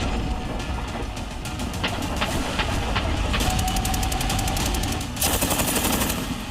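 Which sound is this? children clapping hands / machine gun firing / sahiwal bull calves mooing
machine gun firing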